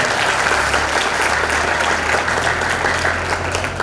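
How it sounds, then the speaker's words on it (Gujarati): A crowd at a Divyang Raas Garba festival gives a loud, sustained round of applause for a respected guest, dense clapping holding steady for about four seconds over a low background hum. "પરમ આદરણીય ઝા સાહેબ માટે એકવાર જોરદાર તાળી થઈ જાય."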